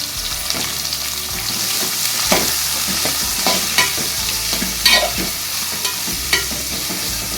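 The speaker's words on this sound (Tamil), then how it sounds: "வெங்காயம் கொஞ்சம் வதங்கட்டும்" Chopped onions sautéing in a pan for vadacurry, steady sizzling broken by repeated sharp scrapes and knocks of a spoon stirring against the metal, close and fairly loud with no talk.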